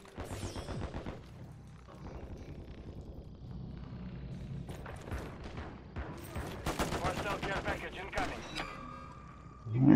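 Rapid bursts of gunfire in a first-person shooter match, crackling at moderate loudness and rising toward the end, mixed with a player talking over the action.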